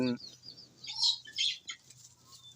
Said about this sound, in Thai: กำลังโกกอยู่นะครับ เป็นไก่บ้าน